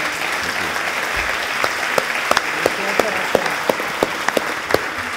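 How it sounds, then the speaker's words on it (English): Audience applause at a seminar on family businesses, a sustained crowd clapping with sharper individual claps standing out near the microphone, fairly loud and steady throughout. "Can you have a big round of clap for them?"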